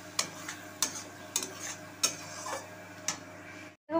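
Masala frying in a pan while a spatula works it, with regular scraping clicks about every half second over a low continuous sizzle, close up, ending in a brief cutoff.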